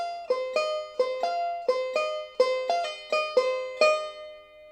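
Banjo picked alone in a backup pattern with a pull-off, about a dozen bright plucked notes in a steady rhythm, each ringing briefly and close.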